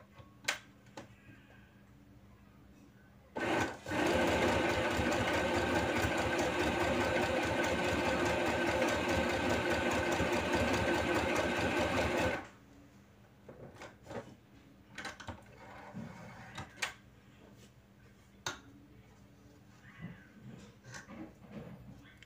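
A YOKO YK1803 portable mini sewing machine stitches a wavy pattern, its steady motor-driven buzz and rapid needle rhythm running loud and close for about nine seconds, then stopping abruptly before quieter clicks and handling noises follow.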